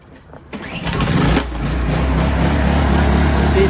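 A Honda EU2200i inverter generator is pulled and fires up within a second, its engine catching with a rising roar and then settling into a steady, close running drone.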